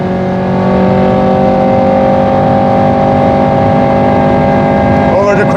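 A Honda car's engine holds a loud, sustained drone at high revs on the Nürburgring, steady and near throughout, with a voice talking over it.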